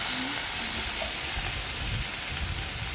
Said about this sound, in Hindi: थोड़ा हल्दी देके थोड़ा सा फ्राई करेंगे